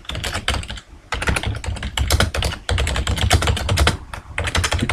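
Fast typing on a computer keyboard while text is entered into a spreadsheet cell, a dense run of close, crisp key clicks with a few short pauses between bursts.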